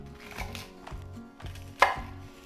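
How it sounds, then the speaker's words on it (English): A knife chopping bok choy into bite-sized pieces on a board, about five evenly spaced firm thuds close by, with one sharper knock, no voices. "you can just cut this into pieces, bite-sized pieces"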